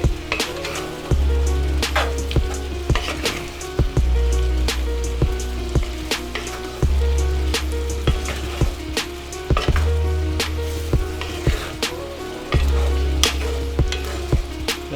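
Food browning in a hot coated pan gives a continuous loud sizzle with crackling pops and some soft clattering, close and steady throughout.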